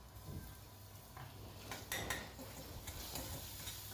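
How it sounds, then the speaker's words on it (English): Ground garlic paste is tipped into a hot pan and stirred for a spicy mutton brain fry, with soft scraping and faint sizzling, a few louder clinks of a spoon against the pan, and steady low kitchen hum throughout. "Now add our grinded paste to the pan."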